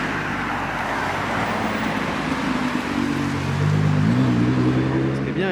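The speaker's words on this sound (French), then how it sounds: "C'est Nissan GT-R." A Nissan GT-R drives along a Monaco street, a steady engine and road rumble that grows slightly louder toward the end, mixed with surrounding traffic noise and a voice talking over it.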